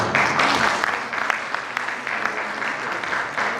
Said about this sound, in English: Let us give a round of applause to the dedicated team of organizing committee